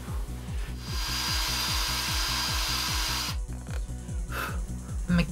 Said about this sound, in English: So, hole drilling time again.